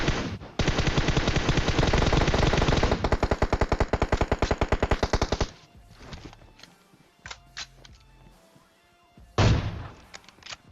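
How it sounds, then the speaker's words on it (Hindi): Gunfire in PUBG: a long, loud burst of rapid automatic fire runs for several seconds, then scattered single shots and clicks follow, with one more sharp shot near the end. "यहाँ से स्नाइपिंग करने की मैं कोशिश कर रहा हूँ"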